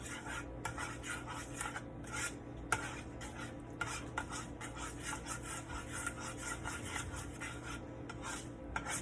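Rice browning in a hot pot, stirred continuously with steady scraping and rubbing strokes against the metal over a faint sizzle, close and even throughout.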